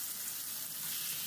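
Tomato paste hits frying potatoes in a hot pan, setting off a loud, steady, close hiss of sizzling oil that fills the whole moment, with no talk.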